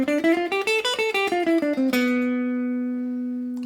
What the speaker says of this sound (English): It's called the Locrian mode,